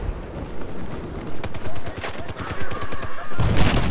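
Gunfire in the video game Battlefield 4, with a sniper firing: repeated sharp shot bursts crackle loudly in quick irregular succession, followed by a heavier blast near the end.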